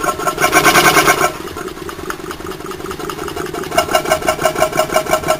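A Schiessl-Maneurop MTZ100 400-volt motor idles with a steady, throbbing mechanical hum and a pulsing rhythm like a small V-twin engine, close and loud with no speech.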